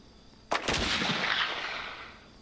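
A single loud gunshot blast with a long rolling echo that trails off over about two seconds, heard alone, from a shooting video game.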